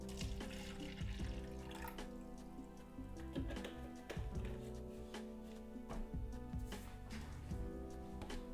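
Tap water splashes while a paint brush is rinsed, a faint trickling patter with irregular small drips and clinks over a quiet hum.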